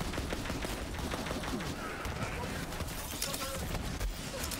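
Shotgun fire in the video game Borderlands 3, rapid loud blasts and chaotic combat noise filling the whole stretch, with background game clatter and voices mixed in.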